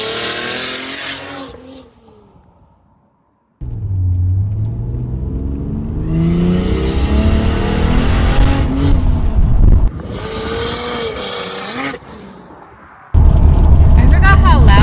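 A MKIV Toyota Supra engine roars in loud bursts of revving, cutting off to near silence and then blasting back, with people talking in between and over it.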